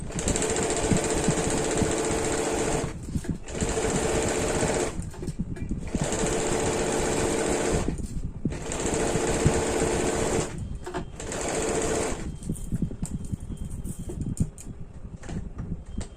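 An electric sewing machine stitches a deep-neck kurti in several steady, loud whirring runs, each broken by a brief pause, the last run followed by quieter rattling.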